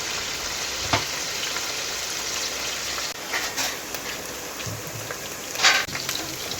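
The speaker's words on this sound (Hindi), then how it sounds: "इसमें हम प्याज जो है वो ब्राउन करेंगे" Medium-sized onion browning in about a cup of oil in a pot for aloo shimla mirch, a steady close sizzle and crackle with a few sharper pops and spatters, no talking.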